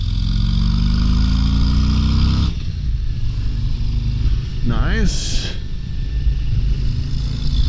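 A 2023 Harley-Davidson Road Glide ST with the 117 engine rumbles loudly at idle, dropping to a lower throb partway through, with a brief remark spoken over it.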